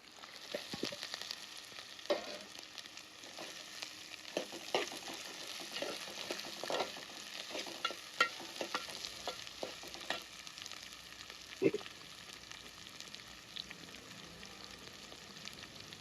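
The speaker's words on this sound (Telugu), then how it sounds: "ఇది గోల్డెన్ బ్రౌన్ కలర్ వచ్చేంత వరకు ఫ్రై చేసుకోవాలి." Onions for palak paneer frying in a pan, sizzling steadily for the whole stretch with scattered clicks and taps of stirring, one sharper knock near the end, and no talking.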